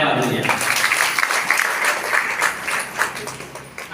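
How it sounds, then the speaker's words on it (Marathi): Audience at a Grandparents Day event applauding, with dense, sustained clapping filling the whole stretch at steady loudness alongside a faint murmur of voices. "आपण आपल्यासाठी स्वतःसाठी एक जोरदार टाळ्या वाजवूया"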